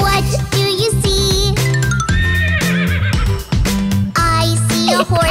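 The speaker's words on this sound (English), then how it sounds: "I see a horse." A horse neighs loudly in drawn-out whinnies over a busy, bright musical backing from a children's song, close and prominent.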